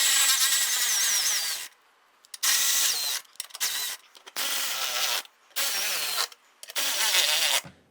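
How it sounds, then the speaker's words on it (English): A power tool tightens the radiator bolts on a 2015–2020 Cadillac Escalade in repeated loud whirring bursts of about a second each, close by, with short silent gaps between them. "Let's tighten down the two front ones."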